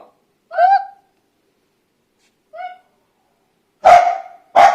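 A dog playing hide and seek gives a few separate yelping barks with pauses between them, the last two louder and closer together.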